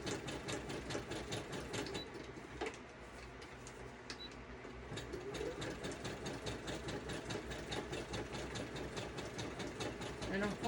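Sewing machine stitching pockets for a vintage journal, a steady continuous mechanical whir with fast ticking stitches, fairly faint but running throughout the whole stretch.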